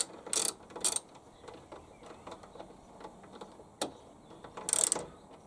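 A socket ratchet clicks in a few short, quiet bursts, separated by pauses, as bolts are tightened on a gearbox axle.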